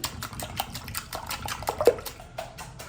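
Egg, salt and black pepper being stirred in a bowl, with quick rhythmic clicking scrapes and a faint wet swishing, close and steady for a few seconds with no talk.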